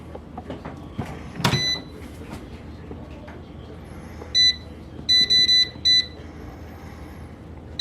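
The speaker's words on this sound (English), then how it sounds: "Time to get our tray in the air fryer." An air fryer beeps as it is set: a string of short electronic beeps, one single and then a quick cluster of three or four, faint beneath quiet kitchen handling noise.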